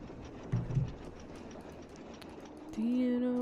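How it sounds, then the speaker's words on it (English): A moving train rolls along the rails with a steady low rumble and faint clatter, then a sustained tonal hum or squeal rises and holds near the end. "Can't go outside until the train stops."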